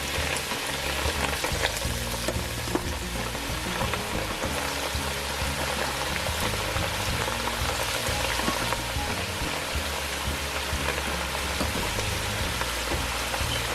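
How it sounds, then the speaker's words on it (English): Beef liver frying in hot oil for a stew, a loud, steady, dense sizzle with continuous crackle that holds close and unbroken throughout, no voices. "So now that you add the liver in the hot oil"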